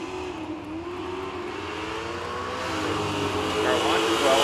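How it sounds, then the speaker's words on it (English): A well-worn 1967 Chevrolet Chevelle drag car launches down the strip at a drag racing event, its engine note climbing steadily in a loud, rising roar that grows louder toward the end, with a voice talking over it. "Car launches well"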